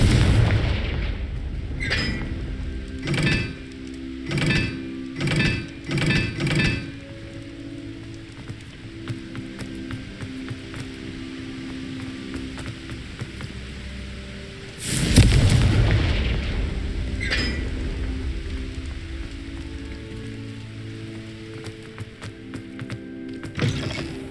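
Confringo fire spells in Hogwarts Legacy gameplay: a rapid run of five or six booming explosive blasts, then a quieter stretch and one larger roaring blast, with game music underneath.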